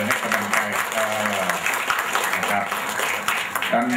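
Applause at a Thai wedding, a warm, moderately loud patter of clapping from the guests that runs steadily for a few seconds.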